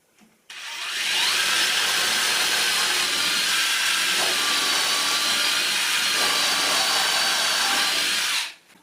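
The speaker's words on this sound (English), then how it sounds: "So let's go ahead and start drilling." A power drill drives screws into a wooden super king size bed frame, a loud continuous high whine held for about seven seconds with no talking.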